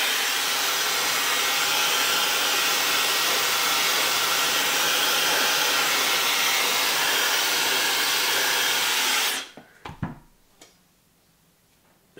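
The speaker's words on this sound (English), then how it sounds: "you blow dry your fringe the opposite way." Hair dryer blowing a fringe on a short fine bob, a loud continuous broadband rush held steady for about nine seconds before cutting off, followed by a few soft handling clicks.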